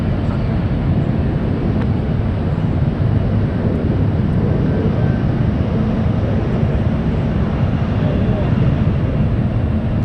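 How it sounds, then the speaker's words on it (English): A United airliner on flight 35 to Osaka takes off from runway 28 left at San Francisco, a loud, constant, broad jet engine roar that holds steady throughout, heard from some distance. "Heading off to Osaka. Flights 35, United 35, taking off on runway 28 left."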